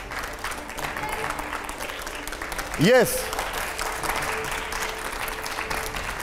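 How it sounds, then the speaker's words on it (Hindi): Studio audience applause at a televised political debate show, a steady wash of clapping throughout with a brief tonal blip midway and a short spoken word over it. "अगले सवाल के लिए जोरदार तालियां हो।"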